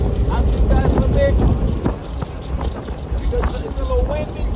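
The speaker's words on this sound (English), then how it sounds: "It's way too windy." Heavy wind buffets the microphone during a ride in a Mustang, a steady loud rushing roar with gusty fluctuations and faint engine or road noise underneath.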